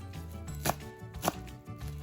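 Two soft, distinct knife chops on a board as shallots are cut, spaced about half a second apart over a steady low background hum.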